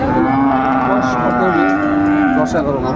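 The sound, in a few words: Friesian bull calf mooing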